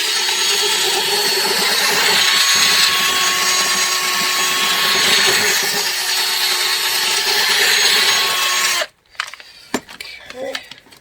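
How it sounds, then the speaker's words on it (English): A power drill spins a VW hubcap fuzz pedal part against fine-grit woodworking sandpaper, a loud continuous whirring grind lasting about nine seconds before it cuts off abruptly, followed by a few quiet knocks and handling noises. "So I'm going to now put it back in the drill and use some finer grit sandpaper."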